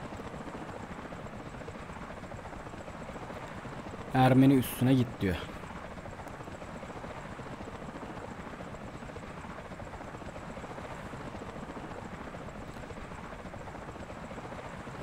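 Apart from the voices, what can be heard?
helicopter flying in the video game Maroon Berets: 2030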